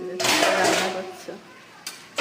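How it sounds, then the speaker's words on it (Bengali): Dishes and pots are handled in a home kitchen: a few sharp metallic clinks and knocks sound close by after a short burst of talk, spaced out over a couple of seconds. "বাসন নিচ্ছে।"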